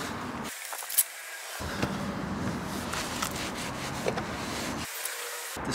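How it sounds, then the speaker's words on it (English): Continuous close rubbing and scrubbing underneath the sill of a 2023 Skoda Octavia Mk4 vRS, steady and fairly quiet, with occasional small knocks and no talking. "I'm going to clean underneath this sill because it is filthy"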